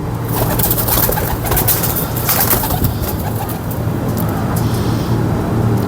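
Pigeons cooing close by from a rooftop loft, soft rolling coos over a steady background of road traffic.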